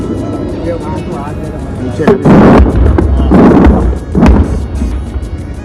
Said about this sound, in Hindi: यहाँ पर बम फूटा डाबी बाजू